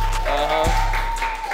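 A small group claps briefly for a dating game match, with a loud continuous tone and some voices running under the short burst of applause.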